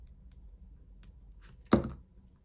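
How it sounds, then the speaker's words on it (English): Side cutters snip through a beaded bracelet cord with one sharp close click near the end, after a few faint handling ticks in a quiet room. "Take your side cutters or scissors,"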